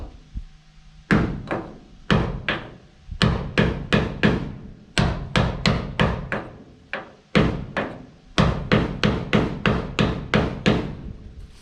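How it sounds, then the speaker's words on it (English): A hammer strikes a small block of wood in a steady series of sharp, close knocks, about two dozen in quick groups, driving a Honda 3000 generator snugly into place on a truck camper; there is no talk. "I have a little block of wood and my hammer because I want this snug."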